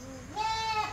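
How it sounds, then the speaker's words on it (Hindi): A single goat on a goat farm in Panvel, India, gives one close, clear bleat that rises in pitch and holds, over faint background noise. "बकरी है ना"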